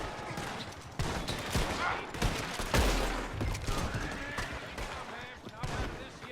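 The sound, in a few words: gunfire in Red Dead Online video game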